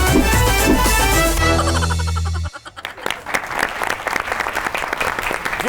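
A studio audience on the Pakistani comedy talk show Tanz O Maza applauds for a singer. A loud musical sting with a deep tone plays first, then cuts off into a dense burst of clapping that carries on steadily.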